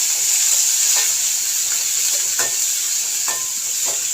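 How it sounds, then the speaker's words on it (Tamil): Red chillies, curry leaves and neem flowers sautéing in oil with fenugreek, a constant bright close sizzle punctuated by a few light stirring scrapes, no voices. "வரமிளகாய் கருவேப்பிலை போட்டு வேப்பம்பூ போட்டு நல்லா வதக்கி விட்டுறேன்"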